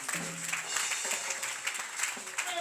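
A church congregation applauds Jesus Christ during a worship service, with dense, fairly soft clapping and faint voices and tones mixed in.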